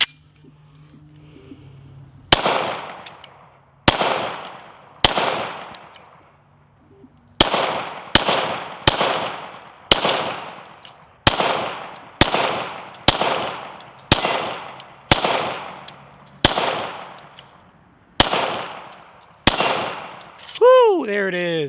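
A Hudson H9 pistol fires about thirteen sharp, loud shots at a steady, unhurried pace through one magazine at close range, each crack followed by a short ring, and a metallic ringing clang at the end.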